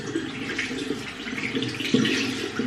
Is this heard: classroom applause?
no